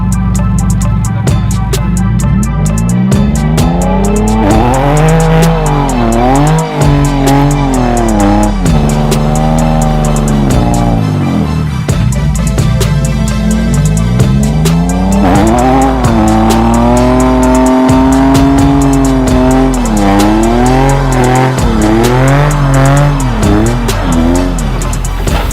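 Nissan 370Z doing a burnout, its engine revving hard in repeated rising and falling surges while the tires squeal steadily, loud and close throughout.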